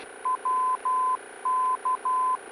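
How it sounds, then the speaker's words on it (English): A VOR navigation station broadcasts its Morse code identifier as a series of short and long steady beeps in a clear, even pattern over faint radio hiss. "Alright, so we could just confirm with that Morse code."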